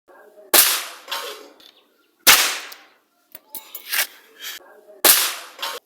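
Loud, sharp bangs from a homemade firecracker packed with matchstick-head powder and a nail, three separate blasts with quieter clatter between them, close by.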